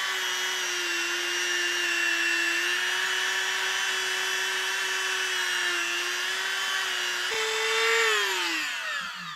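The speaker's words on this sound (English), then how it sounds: "I take a Dremel buff and I get in here and polish the inside of that cylinder" A Dremel rotary tool with a buffing wheel polishes the inside of a motorcycle brake caliper cylinder, a steady high-pitched whine that holds its pitch, then briefly rises before winding down.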